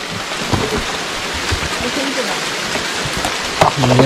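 Steady rain pours down around a small boat on a river while fishing for giant freshwater prawns, a continuous hiss of drops on water and surfaces, with faint voices briefly in the background.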